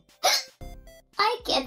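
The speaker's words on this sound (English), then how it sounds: "I get the hiccups." A child's hiccups, abrupt catches mixed in with the child's own speech sounds, close and clear.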